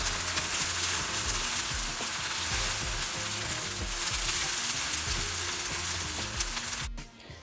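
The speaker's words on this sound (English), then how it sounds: "So guys, our stew is just cooking nicely." Vegetable stew with chopped tomatoes cooking in a pot, a loud continuous close sizzle with bubbling and occasional stirring clinks, cutting off abruptly near the end.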